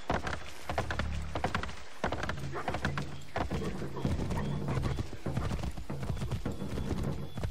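Horse hooves clip-clop in a steady gallop through the game Assassin's Creed 3, a close rhythmic thudding that runs the whole time, with a brief whinny and some faint wooden knocks.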